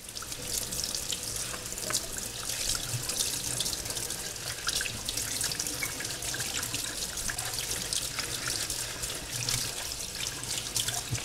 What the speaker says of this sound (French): on va passer le poireau sous l'eau